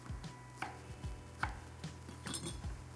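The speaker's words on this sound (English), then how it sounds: "2 garlic cloves, about a 2 centimetre piece of ginger. Just roughly chop that and pop it in." A knife roughly chops garlic cloves and a small piece of ginger on a board, giving a quick irregular series of close, crisp thuds with no talking.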